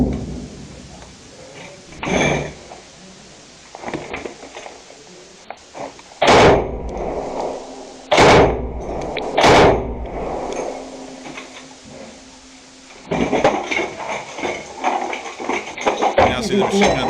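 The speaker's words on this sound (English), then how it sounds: "You can hear what sounds like a cluster round exploding outside." Cluster munition rounds exploding outside in a war zone, several heavy booming blasts at irregular intervals with rumbling tails, while people talk between and over them.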